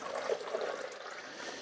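Fresh water pours steadily from a glass coffee carafe into the back reservoir of a Mr. Coffee 12-cup drip coffee maker, a continuous close trickle and splash with no talking.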